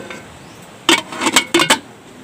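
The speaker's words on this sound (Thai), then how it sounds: "ใส่ลงไปแล้วก็ปิดฝาไว้" A metal lid settles onto a pot of Thai tom yum broth with catfish heads, several quick clattering knocks and rattles in two close bursts, near and loud against a quiet kitchen background.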